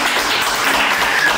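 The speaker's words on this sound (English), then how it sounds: "Clap, clap, clap." Applause from an audience at a cooking competition for professional players, a steady, dense wash of many hands clapping close and loud, continuous without pauses.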